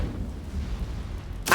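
A short, bright whoosh of the Incendio fire spell from Hogwarts Legacy flares up right at the end, after a low rumbling game ambience.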